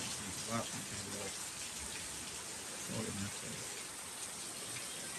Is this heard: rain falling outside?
yes